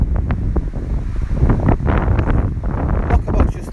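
Wind buffeting a microphone outdoors beside a 2014 Bailey Unicorn Cartagena twin-axle caravan, a loud rumbling, gusting roar with someone talking over it.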